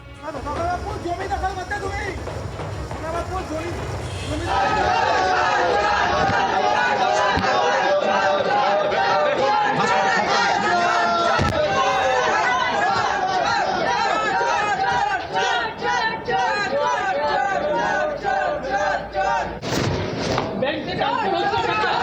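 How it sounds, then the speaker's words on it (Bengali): A crowd outside a hospital chants slogans, jeering at the arrested Sona Pappu. The dense mass of raised voices goes on almost without a break, near and loud, with occasional thumps mixed in. "হাসপাতাল চত্বরে সোনা পাপ্পুকে দেখে চোর চোর স্লোগান দেখাবো সেই ছবি"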